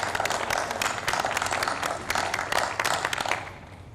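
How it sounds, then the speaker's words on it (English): An audience at a Board of Education meeting applauds, a dense, steady patter of many hands clapping that holds for a few seconds and then tapers off. "Round of applause for them, please"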